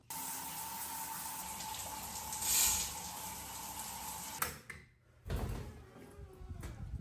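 A shower runs inside a camper van, a steady close hiss of spraying water that stops abruptly, followed by a door or latch clatter and quieter handling noises.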